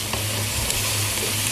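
An egg sizzles in a hot pan while tom yam seafood nasi goreng is being fried, a steady loud crackling hiss with stirring throughout and no talking.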